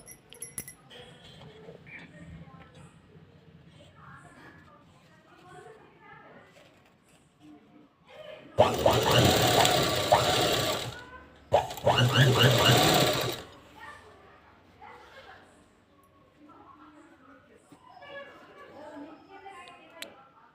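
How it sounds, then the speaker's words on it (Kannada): Sewing machine stitching a neckline, two loud close bursts of rapid whirring, the second following a brief pause, set between stretches of soft speech. "ಸ್ವಲ್ಪ ನಿಧಾನವಾಗಿ ಸ್ಟಿಚ್ ಮಾಡ್ಕೊಳ್ಳಿ"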